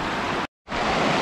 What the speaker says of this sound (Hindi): ये देखिए नदी का कुछ सीन ऐसा है